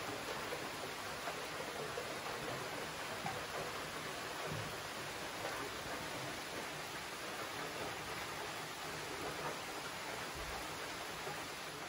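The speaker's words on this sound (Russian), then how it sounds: "Дождик разошелся не на шутку" Steady evening rain falls continuously in Lahij, a dense even hiss with no voices, unbroken from start to finish.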